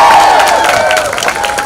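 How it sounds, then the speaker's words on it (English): Gala guests at a Filipino American symphony orchestra event cheer and clap, a brief, loud burst of applause with excited voices from a nearby crowd. "31 guests, the noisy crowd here"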